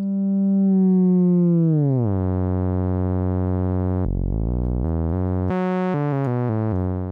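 Furthrrrr generator tone with frequency-modulation feedback, a loud, bright harmonic drone that glides downward, then steps through a series of abrupt pitch and timbre changes into buzzy, stuttering tones.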